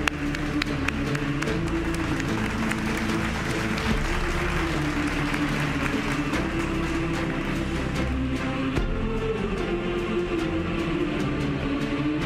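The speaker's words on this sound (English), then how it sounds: "A welcoming applause, please" Applause rises at a university graduation ceremony as graduating students enter the stage, a steady, dense clapping from a large standing crowd that holds evenly throughout, with a low murmur and tonal hum beneath it.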